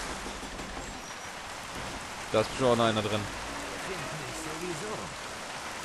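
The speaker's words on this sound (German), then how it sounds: "Der Regen ist saulaut." Heavy rain pours as a dense, constant hiss in the video game Mafia, with someone briefly speaking over the downpour partway through.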